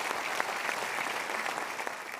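A live talk-show audience in Indonesia claps together, a steady wash of dense applause sustained evenly from start to finish with no voices over it.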